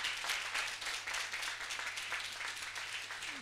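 A French television game show studio audience applauds a lottery winner coming onto the set, with dense, steady clapping that runs the whole time without a break.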